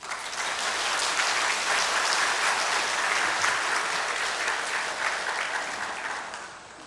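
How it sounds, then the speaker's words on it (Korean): A church congregation claps loudly in welcome as a missionary from a church in Thailand comes forward, a dense, even roar of applause that swells and holds, then tapers slightly at the end. "선교사님 나오실 때 박수로 환영하시기 바랍니다"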